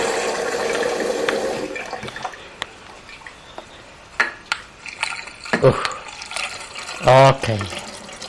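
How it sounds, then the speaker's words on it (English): Running tap water fills a soy milk maker in a home kitchen. The steady flow carries clinks and splashes, rising into a louder gurgle near the end, while a person speaks briefly nearby. "Yeah, I'm filling it with water."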